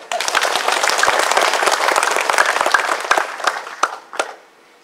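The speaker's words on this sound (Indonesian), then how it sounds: "Tepuk tangan dong warga" Residents clap together at an RW 12 flag ceremony marking 17 August in Taman Pancasila, a dense, steady burst of hands close by for several seconds before it thins into a few last claps and fades.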